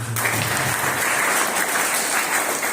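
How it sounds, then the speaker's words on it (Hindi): Students at a government higher secondary school applauding, a steady wash of many hands clapping together, loud and continuous throughout. "एक बार फिर से अपनी ताली बजा दें।"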